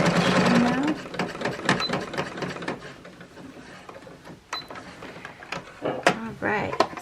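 A sewing machine stitches a quilt-as-you-go square coaster, running in short bursts of rapid mechanical whirring separated by clicks and handling noises, with a person talking intermittently in between.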